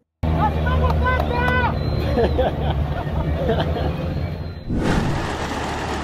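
A homemade seaplane's engine runs before takeoff, giving a steady, fairly loud mechanical drone under a wash of background voices that fades briefly near the end and then returns.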